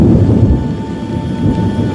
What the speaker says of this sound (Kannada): ಭಾರೀ ಗಾತ್ರದ ಮೋಡಗಳು ಒಂದುಗೂಡಿ ಸಿಡಿಲಬ್ಬರಗಳಿಂದ ಸಿಹಿ ಮಳೆ ಹನಿಯನ್ನ ಧರೆಗೆ ಇಳಿಸುತ್ತಿವೆ.